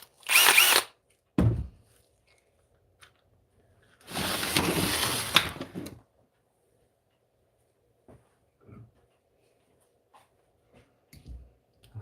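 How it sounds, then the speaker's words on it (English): A power drill bores holes in an Arrma Kraton 8S RC car part, two short bursts and then a longer whirring run of about two seconds, followed by quiet clicks and handling noises. "I'm going to drill over here so I don't get all the swarf into the shock building area"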